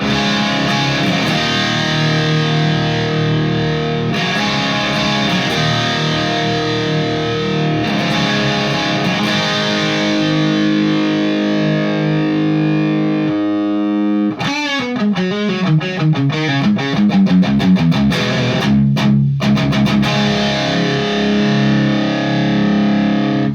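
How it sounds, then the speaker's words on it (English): Electric guitar strummed through an Orange Micro Dark 20-watt head with a metal mod, heavily distorted and loud: sustained ringing chords give way to faster, choppier strumming near the end. "let's go ahead and show you the headroom just doing basic strum"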